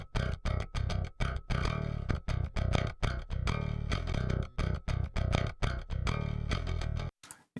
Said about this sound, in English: before I actually hit the distortion and overdrive from the bass amp